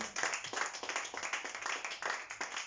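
A church congregation claps during a sermon, quick uneven handclaps in a steady patter, fairly faint and roomy, with no voices over it.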